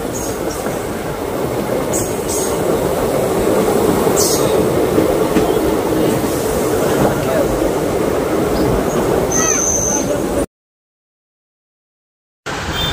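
A local passenger train running from Goalpara to Guwahati, heard from inside as a loud, steady rumble with wheel clatter and occasional faint squeals, broken by a short silent gap near the end.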